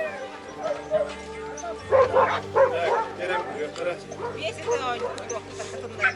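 Yakutian Laika dogs at a dog show give repeated close barks and yips in bursts, with a whimper among them, over crowd chatter and people talking nearby.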